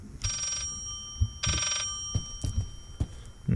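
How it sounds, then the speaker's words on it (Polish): A telephone rings in the horror video game Layers of Fear, two loud bursts of bell-like trilling about a second apart, with thumps and creaks between and after them and no talk. "Słyszę gdzieś tutaj telefon?"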